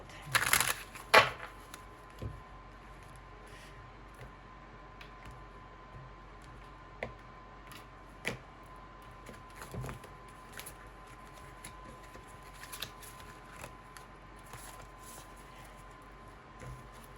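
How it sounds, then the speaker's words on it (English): Soft, crisp riffling of tarot cards near the start, then scattered light taps and shuffles over a quiet, steady hum. "Let me shuffle."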